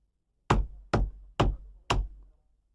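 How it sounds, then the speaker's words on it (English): Four evenly spaced knocks on a wall, sharp and close, each with a short dull resonance, separated by brief silences. "He walked straight to the mirror and began knocking on the wall."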